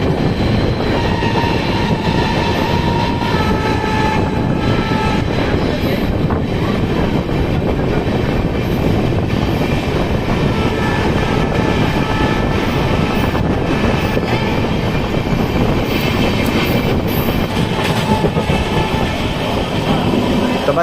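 Haridwar–Amritsar Jan Shatabdi express train running at speed, a continuous loud rumble and rattle of wheels on track, steady throughout.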